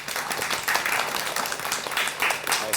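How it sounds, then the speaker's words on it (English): Indoor audience applause welcoming a speaker onto the stage at an MBA career event, a steady dense wash of clapping held at even loudness throughout, with no voices over it. "please welcome him with a huge round of applause"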